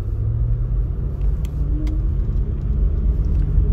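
A 2010 Range Rover Sport 3.6 TDV8 HSE runs with a steady, deep engine rumble and low road drone, joined by a few faint clicks and light rattles.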